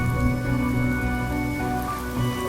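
Steady rain falls in the video game Honkai: Star Rail, a dense, even patter that holds constant throughout under a low layered musical drone, with no voices.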